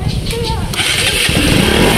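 A motorcycle engine with a freshly cleaned throttle body sputters and catches, then runs steadily, loud and close, with voices talking over it.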